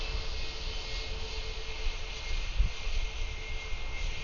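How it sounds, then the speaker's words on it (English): A Boeing 757 with Pratt & Whitney PW2000 engines climbs away on takeoff at Atlanta airport, a steady, broad jet roar holding loud and even throughout with a slight swell near the middle, no voices over it. "There we go, up to the air with the Pratt & Whitney PW 2000 engines."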